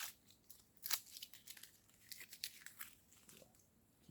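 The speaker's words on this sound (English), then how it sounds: "we're going to take this foil off" Foil being torn and crinkled off the neck of a sparkling white wine bottle, a quiet run of small rips and crackling crinkles over about four seconds, close up and alone.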